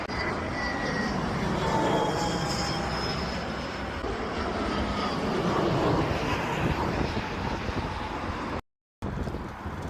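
A jet airliner passes low over a well-known plane-spotting spot beside the Heathrow runway, a loud, broad engine roar sustained throughout with wind buffeting the microphone and a brief dropout near the end.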